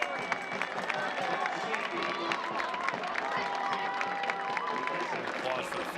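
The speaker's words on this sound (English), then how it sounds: "Applause for the former Hartford player" Stadium crowd at a Hartford Athletic versus Pittsburgh Riverhounds soccer match applauding a former Hartford player as he is substituted, a steady wash of clapping and cheering under a commentator's voice, with a whistle-like tone drifting through.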